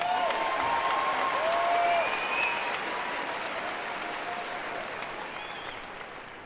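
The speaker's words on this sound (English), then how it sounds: "Give them another round of applause" Graduation-ceremony audience applauding a high school choir: sustained, dense clapping from a large crowd that stays steady and loud for several seconds, with a few faint whistles and voices mixed in, slowly easing at the end.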